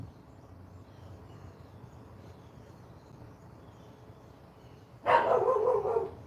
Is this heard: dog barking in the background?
yes